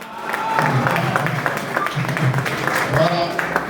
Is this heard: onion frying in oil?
no